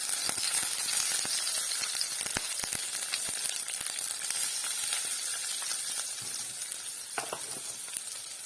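Seven whole green chillies sizzle and spatter steadily in hot oil in a pan with turmeric, a continuous bright fry with scattered sharp pops and crackles, close and alone without any talk.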